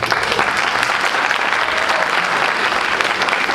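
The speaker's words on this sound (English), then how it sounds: "please give her a round of applause" A school audience at a jazz Christmas concert applauds a high school choir director, producing a loud, dense, continuous wash of clapping with no talk over it.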